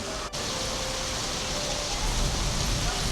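Steady rain pours down in a dense, even hiss at Batu Caves, Malaysia, with no breaks or voices.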